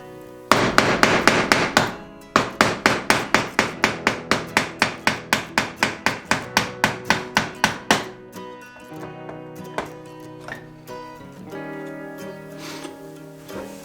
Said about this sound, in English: Now we just got to clean it all up with a chisel.